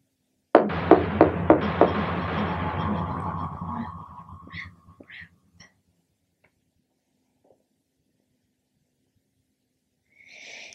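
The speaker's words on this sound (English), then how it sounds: "All you had to do was knock." A door takes a run of about five sharp knocks in quick succession, ringing with a reverberant, echoing tail that fades away, then a few faint thuds and a brief soft sound near the end.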